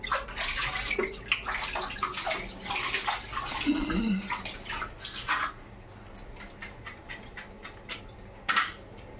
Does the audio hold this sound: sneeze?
no